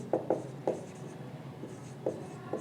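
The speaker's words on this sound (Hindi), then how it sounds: "यहाँ पर लिख लेता हूँ इस बात को" Chalk or marker strokes on a classroom board while a maths proof is worked out, a handful of short, sharp scratching taps spaced irregularly, fairly close and quiet, with no talk over them.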